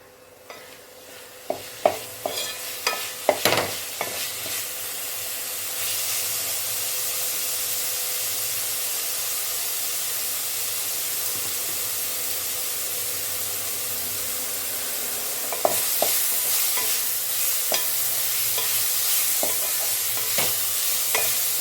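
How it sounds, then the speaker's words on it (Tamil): Amla (Indian gooseberry) rice sautéing in a pan, with a steady frying sizzle and hiss throughout, broken by clattering spoon strokes early on and again near the end as the rice is stirred; no talk. "கொஞ்சம் வதங்கட்டும் நெல்லிக்காய்"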